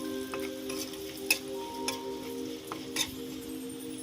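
Curry leaves hit hot oil and are stirred for a Kerala-style Onam ijji curry, giving a steady close crackling sizzle with a few sharp spoon clinks against the pan and no talking.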